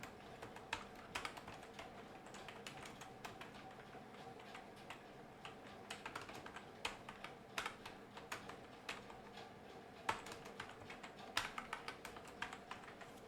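Typing on a computer keyboard while writing text in Google Docs, a quiet, steady patter of key clicks with a few louder strikes, close and alone.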